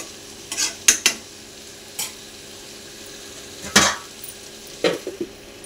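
Food in an uncovered cooking pan gets stirred with a utensil, giving several distinct scraping clanks in irregular bursts over a low, constant sizzle.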